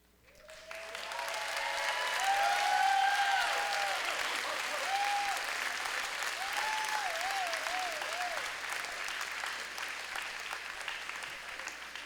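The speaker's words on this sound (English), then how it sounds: "give them a good round of applause" Crowd at a FIRST Robotics Competition opening ceremony breaks into applause that swells within a second and stays loud and dense, with whoops and a warbling voice riding over the clapping.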